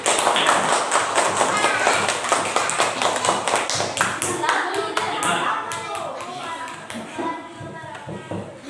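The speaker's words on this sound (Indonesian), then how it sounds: "Tepuk tangan buat kelompok 1" A classroom of pupils claps for a group in a steady, dense burst of many hands nearby, with children's voices mixed in, the clapping gradually thinning and quieting toward the end.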